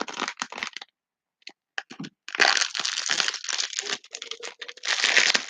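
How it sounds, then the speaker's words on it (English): Clear plastic wrap crinkled and torn open to free a bandage, close and crisp, in irregular crackling bursts with a brief pause between. "take the bandage out. It comes in a clear plastic wrap"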